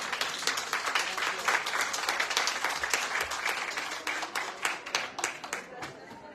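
Audience applause at an economics conference in a hall, a dense, sustained round of many hands clapping close by that gradually thins toward the end.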